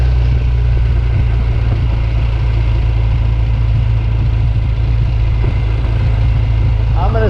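A vintage motorcycle engine runs steadily, a loud low idle-like drone close by that holds constant throughout without letting up.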